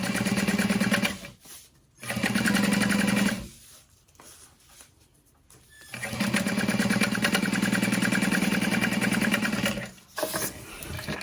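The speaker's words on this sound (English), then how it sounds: "So I'm going to fold top edge over and top stitch." A sewing machine top stitches the folded edge of a slip pocket for a backpack lining, running in long steady loud bursts with brief pauses between runs, close up and without talk.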